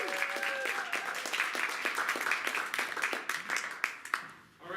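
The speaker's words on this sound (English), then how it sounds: "Give them a huge round of applause" An audience gives a warm round of applause to student players at an improv show, dense clapping filling the room for several seconds before tapering off near the end.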